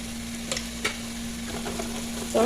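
Turmeric-spiced masala and meat frying in a pot, a steady soft sizzle with a few scraping stirs and a brief louder rattle at the end.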